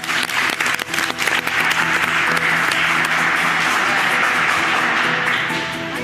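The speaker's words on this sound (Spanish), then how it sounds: "Así que un aplauso para ustedes" Loud, full applause on a cooking competition show set, a group clapping vigorously and continuously, with faint tonal music sustained underneath and the clapping easing slightly near the end.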